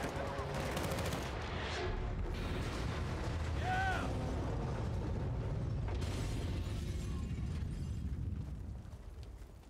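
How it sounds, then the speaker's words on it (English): Machine gun fire in Battlefield: Bad Company 2 on Xbox, rapid bursts of gunfire and mechanical clatter amid a dense, loud battle soundscape with booming impacts, fading slightly at the end. "They have a machine gun!"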